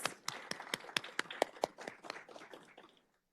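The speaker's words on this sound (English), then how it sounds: "Can we give a round of applause for our young authors and our amazing teachers?" A small audience at a school board meeting claps for young authors and teachers, a faint, sparse patter of individual claps that thins out and stops after about three seconds.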